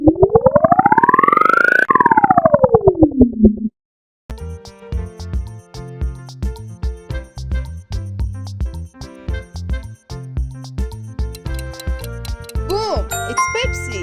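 The Pepsi logo sound: a rising and falling synthetic swoosh tone, a short pause, then a bright, busy electronic jingle with rapid plucked and chiming notes, loud and close.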